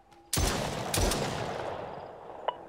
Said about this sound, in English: I guess I can probably just shoot.